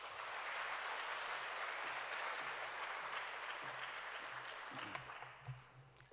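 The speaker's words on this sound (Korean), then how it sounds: "목사님 힘내시라고 감사합니다 하는 뜻에서 박수 한번 해주세요" A church congregation gathered for an early-morning revival service applauds the pastor with a broad, steady wash of clapping over a low hum, easing off near the end as a voice begins to speak.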